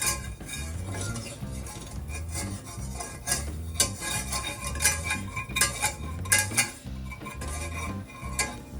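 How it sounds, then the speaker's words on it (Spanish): A spoon stirs flour cooking in a pan as the roux for a béchamel sauce, giving a steady run of scraping and clinking strokes against the metal, close and fairly loud, with no voice. "vamos a primero a cocinar la harina"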